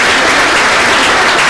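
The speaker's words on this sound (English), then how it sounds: "Big round of applause for Shreya Kapoor." Steady, dense applause from a crowd at a popular science lecture, loud and continuous with no voices standing out.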